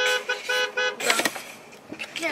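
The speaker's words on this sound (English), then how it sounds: "He honked three times." A car horn sounds three short honks in quick succession on a street during a grocery run, close and fairly loud, followed by people talking.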